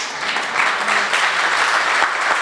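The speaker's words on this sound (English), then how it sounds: "Please let's give them a well-deserved round of applause" An audience at a 50th anniversary celebration of a historical society applauds steadily in a dense, sustained wash of many hands clapping, fairly close and loud throughout.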